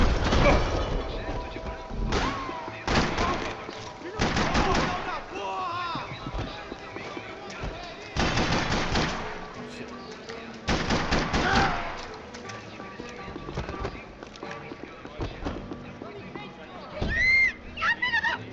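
Video game gunfire, bursts of shots and thuds in a busy game soundtrack, heard beneath steady talking with loud, dense stretches of action.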